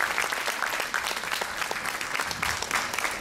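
An indoor audience at a Circassian association performance in Ankara claps steadily, a dense, even patter of many hands going on throughout.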